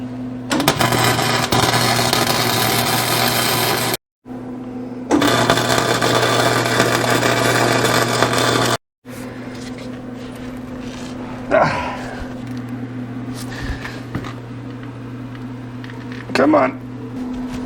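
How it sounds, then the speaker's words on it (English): Arc welding a nut onto a bolt on a Caterpillar D4 bulldozer undercarriage, a loud steady crackling buzz with a strong hum that runs in two long bursts broken by short pauses, then gives way to quieter shop sounds. "this one I'm actually going to try to weld a nut onto and see if I can get it off that way first"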